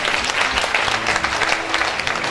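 A seated audience at an academic forum gives a round of applause, many hands clapping steadily at close range with a few sharper claps standing out, no voices over it.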